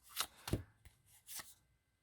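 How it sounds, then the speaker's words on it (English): Magic: The Gathering cards being side shuffled by hand, a few quick papery riffling bursts close up, separated by short pauses before trailing off. "are we going to do the side shuffle?"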